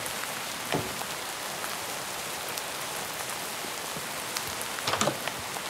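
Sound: rain in video game Minecraft

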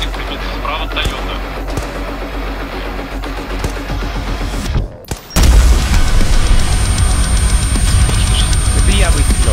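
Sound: gunshot in a video game

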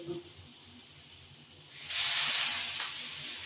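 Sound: water poured into hot pan of frying fish, hissing

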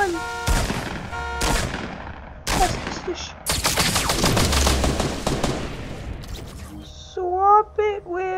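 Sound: gunfire in the video game Fortnite

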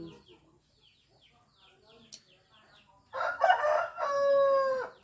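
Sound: rooster crowing

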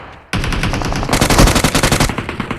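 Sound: gunfire in the video game PUBG Mobile

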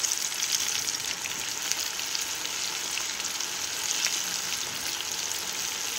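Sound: chicken tenders frying in hot oil

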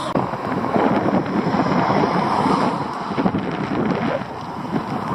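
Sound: wind blowing

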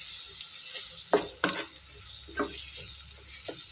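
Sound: sautéing chopped tomatoes with onion in a pan

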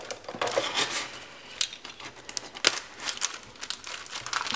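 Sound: cutting craft paper

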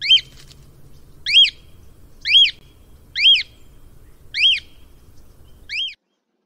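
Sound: cockatiel call

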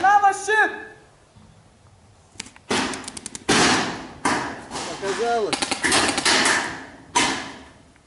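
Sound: paintball marker firing from a corner

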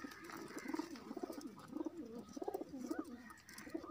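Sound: pigeon cooing

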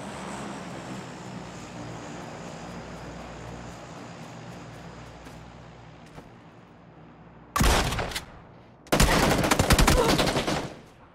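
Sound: gunshots in PUBG video game

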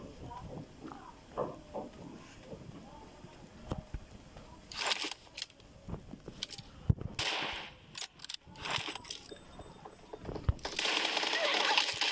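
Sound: gunfire from the video game PUBG Mobile

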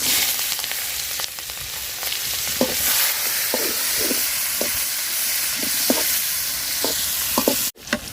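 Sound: onion and chili frying in oil

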